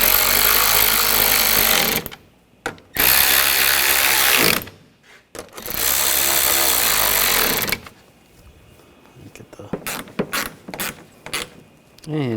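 Ratchet tightening parking assist sensor fasteners on a 2007-2013 BMW X5 front bumper: loud bursts of rapid whirring ratcheting that stop and restart, then a run of separate close clicks as the fasteners are snugged down.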